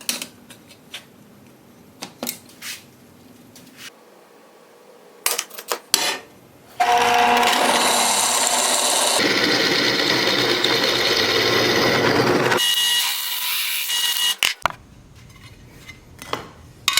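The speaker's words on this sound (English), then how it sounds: "I'm gonna drill this out so that this all lines up with those studs" After a few clicks and taps, a power drill whirs steadily for several seconds drilling holes in a bracket for a Toyota 4Runner ladder, shifting pitch partway through, then stops, followed by clattering handling noises.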